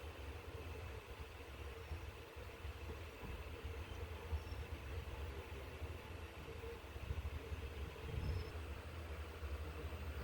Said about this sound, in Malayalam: ട്രെയിൻ അങ്ങനെ ഇവിടെ നിർത്തി കേട്ടോ